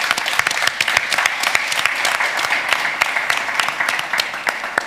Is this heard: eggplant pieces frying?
no